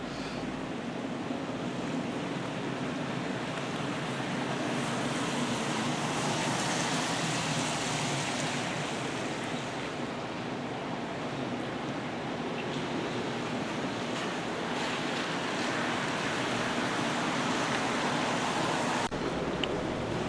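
Large ocean waves break on the shore at Cocoa Beach, Florida, opposite the main pier, a steady loud roar of surf with gusting wind across the microphone that runs the whole time without voices.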